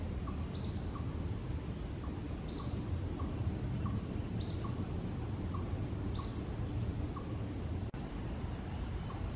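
An unidentified bird calls from high in a tree in a park, giving a short high note roughly every two seconds, moderately distant, over a steady background hum of outdoor ambience.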